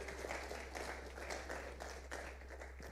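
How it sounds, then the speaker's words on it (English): Applause for the chairman at a legislative retreat session on electoral preparedness, a moderately faint, steady patter of clapping from the gathered members lasting a few seconds over a low hum. "A better round of applause for the chairman."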